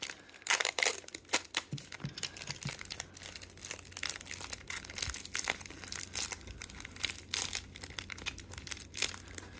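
Material being crumpled by hand into a tight ball for a fall pumpkin craft, a close, steady crackling and crinkling that runs throughout with sharper crunchy bursts.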